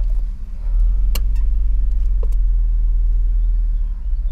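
A BMW with a failed engine reverses, its motor giving a deep, steady low rumble close by, with a couple of faint clicks and no speech.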